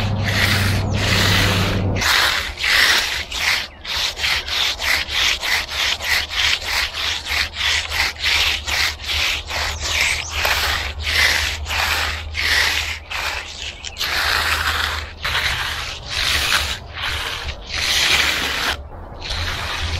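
A magnesium float scrapes back and forth along the edges of a fresh concrete slab, repeated rough rasping strokes in a steady rhythm, close and loud with no talk.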